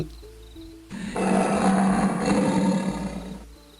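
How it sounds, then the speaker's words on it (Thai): A single deep, loud animal roar rising suddenly and sustained for a few seconds before fading, over a low background hum. "ตามมาด้วยเสียงคำรามก้องอีกครั้ง"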